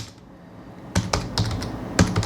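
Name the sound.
typing topic on computer keyboard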